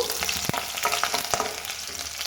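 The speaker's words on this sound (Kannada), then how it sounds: "ಮೆಣಸಿಕಾಯಿನ ಹಾಕಿ ನೀಟಾಗಿ ನೀವು ಫ್ರೈ ಮಾಡ್ಕೋಬೇಕು" Green chillies frying with curry leaves in a pan for sambar: a close crackling sizzle broken by sharp spatters and stirring clicks, no talking.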